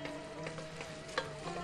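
Minced meat and tomato paste sizzle and fry in a pot while being stirred, a steady soft crackle with a few scraping stir strokes, close and fairly quiet.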